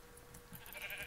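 Sheep bleating in the video game Minecraft, short synthetic bleats repeating over a steady game background, fairly close and moderately loud.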